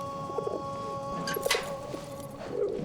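A carrier pigeon coos softly in a World War I video game, a few low burbling calls heard against a constant background hum, with no talking.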